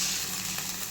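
Water poured into a hot pan of onion and tomato for samba rava upma hisses with a loud, steady, close sizzle throughout a brief moment.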